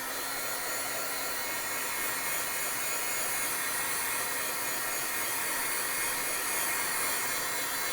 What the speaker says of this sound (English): I'm just going to hit it quick with the heat tool.